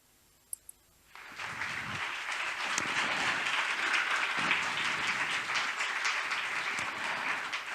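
Loud, sustained applause from a large conference audience, bursting in after a brief quiet moment with a couple of small clicks, then continuing steadily.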